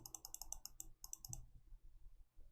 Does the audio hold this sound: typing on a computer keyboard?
yes